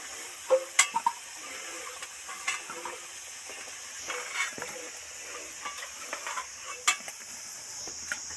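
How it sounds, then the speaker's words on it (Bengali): Fried potatoes come out of hot oil while a low sizzle continues in the background. Soft scattered clinks and scrapes of a slotted spoon against the pan sound close and quiet, and no one talks. "ফ্রাই করে ভাজা হয়ে গেছে এবার তেল থেকে ছেঁকে উঠিয়ে নিচ্ছি"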